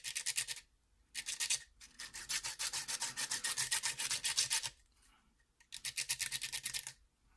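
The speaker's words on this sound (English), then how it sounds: "grit of next level of sandpaper, always take it and drag it like that, and you'll feel it." Sandpaper rasps rhythmically against a new guitar pick in quick back-and-forth strokes, close and crisp. The strokes come in several bursts separated by short pauses.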